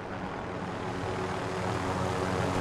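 Helicopter in a video game flying overhead, a steady droning rotor and engine roar that holds loud and even with no talk.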